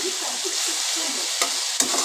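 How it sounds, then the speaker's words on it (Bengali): Snake gourd (chichinga) fries in a pan with a steady soft sizzle, while a utensil stirs it in light repeated scrapes and gives two sharper clinks near the end. "সেটা আগে ভেজে নিই পুরো চিচিঙ্গাটা"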